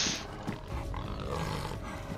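A tiger in the survival game DayZ roars close by, one deep sustained growling roar filling the whole moment with no talk over it.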